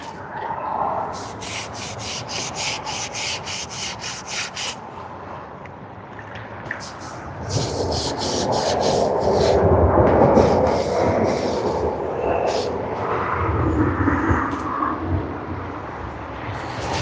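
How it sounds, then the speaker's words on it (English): Mortar being scrubbed off bricks with a wet sponge and water: rhythmic, close rubbing strokes, quicker at first and then broader and heavier, continuing without pause and with no talking. "More scrubbing, more cleaning required."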